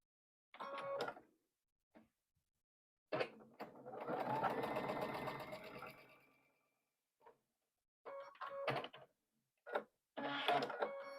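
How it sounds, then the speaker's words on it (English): A sewing machine stitches a seam joining two pieces of a Dresden quilt block, running in short quiet bursts, then a longer steady run, then more stop-start bursts. "We'll start on this side and sew that seam."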